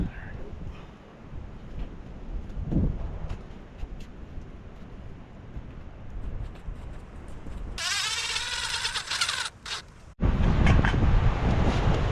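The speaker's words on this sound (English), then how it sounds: "It was windy." Wind buffets a microphone, rumbling and gusting throughout, with a few brief louder bursts of noise near the end.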